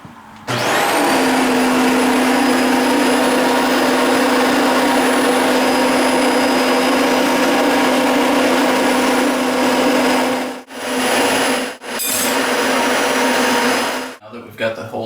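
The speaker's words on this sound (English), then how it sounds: "So we'll turn on the vacuum and drill" A loud vacuum roars steadily with a high drill whine layered on top while drilling into a bathroom wall, cutting out briefly twice near the end before restarting.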